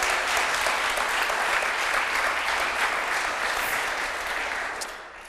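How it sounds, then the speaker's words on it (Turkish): A studio audience at a televised word game show bursts into steady, close applause that holds evenly, then tapers off in the final second. "300 puanlık bir alkış efendim"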